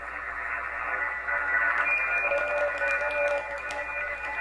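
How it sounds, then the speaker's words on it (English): Digital WSJT-X tones on the 40 meter amateur band come through a radio receiver as steady, sustained tones over constant static hiss. Nobody speaks, and the tones hold at a moderate level for the whole span. "that's our 40 meter tones going off, as you can hear"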